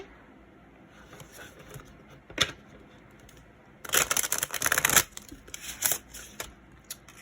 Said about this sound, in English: That was not a good shuffle whatsoever.